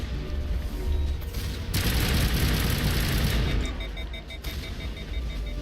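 Rapid bursts of gunfire from a Mass Effect 1 battle, dense and continuous with a loud swell in the middle, layered with booms and a faint beeping tone.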